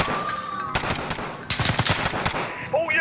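Automatic gunfire crackles in Call of Duty during a street shootout at Piccadilly Circus, rapid sustained bursts up close mixed with distant shots, as a radio voice speaks briefly near the end.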